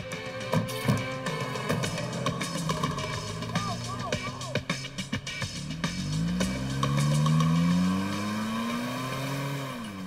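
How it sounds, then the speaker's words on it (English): A car engine revs up and pulls away, rising in pitch as it accelerates, loud over a busy background of music and scene sounds, with voices mixed in early on. "Escape in her car."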